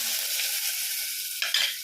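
Steady hiss of onions frying in a little oil in a pan, with a couple of brief scraping stirs near the end.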